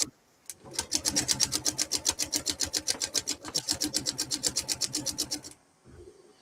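A sewing machine stitches a quilt block in a fast, even run of close mechanical clatters lasting about five seconds, starting after one brief click and stopping abruptly, followed by a soft handling noise.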